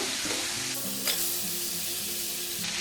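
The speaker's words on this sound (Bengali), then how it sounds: "আর ধনের পাউডার। একটু কষে নেব।" Turmeric, chilli and coriander powders frying in hot oil in a pan for mutton salan, a steady close sizzle with scraping stirring strokes throughout, no voices.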